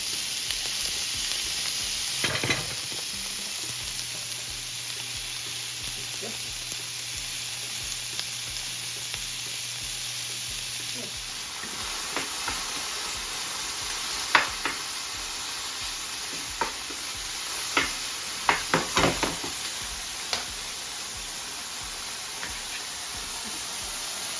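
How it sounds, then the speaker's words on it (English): Continuous crackling sizzle of bacon frying in a pan, steady and close, with occasional clinks and scrapes of a utensil, cooked as the base for a Brussels sprouts side dish. "So we get the bacon in the pan, nice sizzle going on there."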